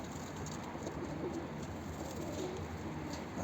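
A male breeding pigeon kept in an enclosed space coos faintly and repeatedly over a steady background hiss, with no talking.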